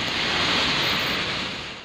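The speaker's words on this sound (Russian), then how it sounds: "вода спускалась на соседние улицы, смывая все на своем пути" Floodwater pours from a main road down into the side streets of Kstovo during a great flood, a loud continuous roaring rush with no breaks and no voices.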